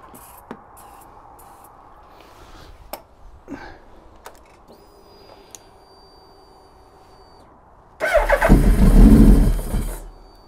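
A Suzuki Hayabusa motorcycle engine with a fuel problem is sprayed with Easy Start and fires up after several quiet seconds of faint clicks and handling noises, then runs loudly for about two seconds before cutting out.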